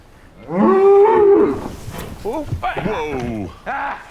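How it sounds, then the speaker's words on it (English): A young bull bellows several drawn-out moos while being loaded into a livestock trailer on a farm, loud and close, with a short burst of voices and shuffling between calls. "later they're trying to plead with Endgame himself to get into the trailer so that they can take him to the field where the cows are"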